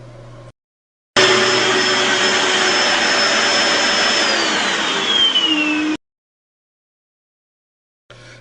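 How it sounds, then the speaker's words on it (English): A noisy vacuum cleaner roars loudly and steadily for about five seconds with a high whine, starting and stopping abruptly, with near silence before and after. "a noisy vacuum cleaner will typically generate sound levels between 70 and 80"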